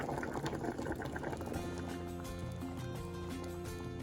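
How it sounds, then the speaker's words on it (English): Jamaican stew peas sauce simmers in a pot, giving a steady, dense bubbling and popping that runs continuously at close range with no talk. "we're going to leave it to simmer down until the sauce is thick"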